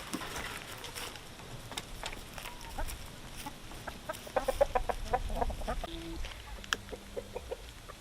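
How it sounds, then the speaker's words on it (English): Chickens in a permaculture food forest clucking and calling at a moderate distance, scattered short clucks over a quiet outdoor background, growing busier partway through. "I will let out the chickens, so you might hear that in the background"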